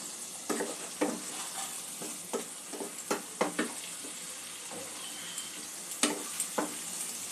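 Potatoes being stirred with spices and a green chilli in a pan for a Bengali fish curry, a steady sizzle broken by repeated scraping clacks of the spoon at irregular intervals, close and fairly loud, with no talking.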